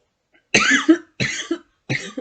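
Three hoarse coughs in quick succession from a teacher during a recorded English lesson, close and fairly loud, with short silences between the bursts.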